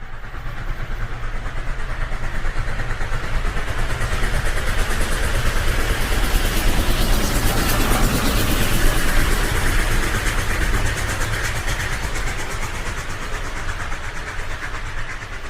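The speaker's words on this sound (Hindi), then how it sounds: "बस सिर्फ ट्रेन की आवाज आ रही।" A passenger train runs at speed, a continuous close rumble and roar heard from inside a coach at night, steady and loud throughout with a slight swell in the middle and no talk.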